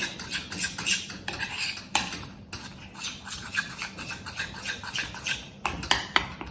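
Pakoda kadhi batter being whisked in a bowl with a utensil, rapid repeated clinks and scraping strokes in an uneven rhythm, close and moderately quiet, no speech.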